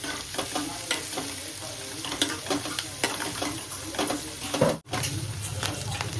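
Tempering spices fry in a pan for rava upma, a steady close sizzle with scattered stirring scrapes and a brief dip near the end.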